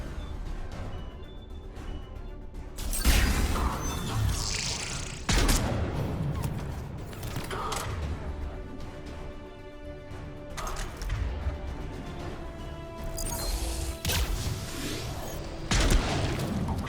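A deployed turret in Mass Effect 3 Legendary Edition fires repeated bursts of gunfire, with loud impacts and crashing hits recurring every few seconds over a constant combat din, all close and fairly loud.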